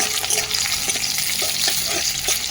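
Lentil badi and onion frying in a pan, a steady dense sizzle that goes on without a break and stays close and loud, with light stirring scrapes throughout and no voices.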